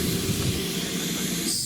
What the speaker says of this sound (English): this is the new Hogwarts Express locomotive